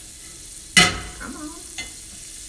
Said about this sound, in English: Then I'm gonna take another little pat of butter and put it down in my frying pan.